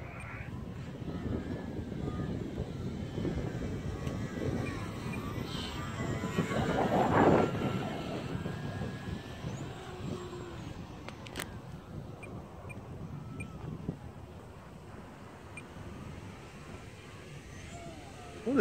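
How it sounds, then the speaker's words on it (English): A model plane, a Timber X, flies outdoors in cold, windy weather, its engine droning steadily with wind noise throughout and swelling briefly mid-flight before fading back to a low hum. "We always come to our go-to plane."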